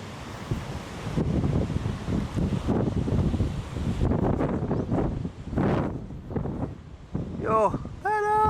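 Strong wind gusting across the microphone at St Francis Bay, roaring and buffeting in loud, uneven bursts close by, with a voice speaking under it and some chirping near the end.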